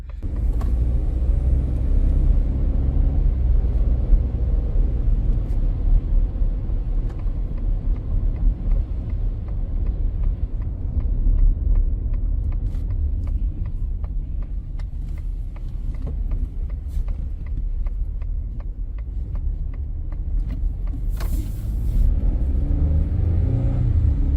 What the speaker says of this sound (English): Truck's shifting really nice and smooth.